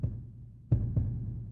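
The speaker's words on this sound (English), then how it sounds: "your heart pounding in your chest" A heartbeat sound effect of a pounding heart: a low steady throb with two sharper, louder beats close together near the end, heard alone without speech.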